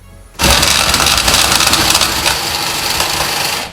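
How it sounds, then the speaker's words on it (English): After a brief quiet moment, a casino automatic card shuffler whirs to life with a dense, fast riffling clatter of cards that continues steadily for a few seconds. "You can see how fast it actually shuffles all your cards together."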